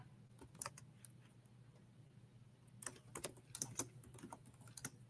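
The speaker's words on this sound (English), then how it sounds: "So I'm typing my questions." Questions are typed on a computer keyboard in short bursts of close, crisp key clicks separated by brief pauses, faster clusters toward the end, over a faint low hum.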